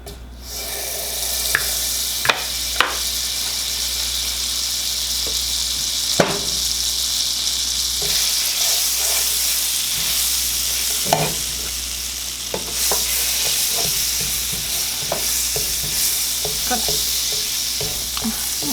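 Fresh tablespoon of butter sizzling in a hot frying pan for French toast, a steady close crackle running throughout with occasional sharper pops and a few stirring scrapes, no voices.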